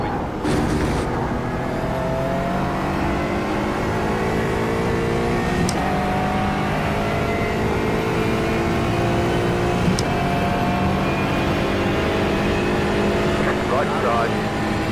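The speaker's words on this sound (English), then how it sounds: "Faster car coming up quick." Race cars in iRacing at the Nürburgring 24-hour race, with a steady engine whine from an Aston Martin GT4 as a faster car closes in; a voice speaks over the engine noise.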